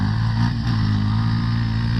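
Dirt bike engine struggling after heavy storms, a steady loud droning hum at close range with no clear revving change.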